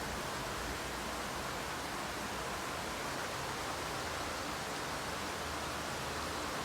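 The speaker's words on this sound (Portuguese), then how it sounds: "Diminuindo a chuva." Heavy rain easing off in Minas Gerais makes a dense, steady hiss of falling water, even and unbroken, with a faint low patter beneath and no voices.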